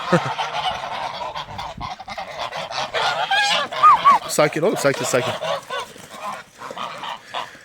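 A flock of geese, including a Chinese goose, honks loudly and repeatedly nearby, overlapping calls mixed with a voice speaking calmly in Turkish.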